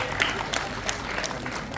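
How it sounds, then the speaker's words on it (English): An audience applauds a student named vice captain of Sapphire House at a school investiture ceremony, soft, scattered clapping from a crowd, fairly distant and low in level, with a few sharper claps standing out over about two seconds. "Give them a big round of applause."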